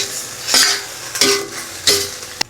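A utensil scrapes through sweet and sour sauce and vegetables in a pan, making three slow sweeping strokes with soft sizzling underneath, close up.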